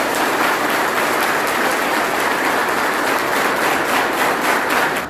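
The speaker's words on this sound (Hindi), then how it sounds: "एक बार और जोरदार ताली से स्वागत।" An audience of police personnel gives loud, dense applause welcoming guests at a Raksha Bandhan gathering at PAC Mirzapur, sustained evenly for about five seconds before tapering at the end, with no talk over it.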